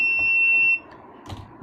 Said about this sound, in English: if we put our hand, so the buzzer will beep here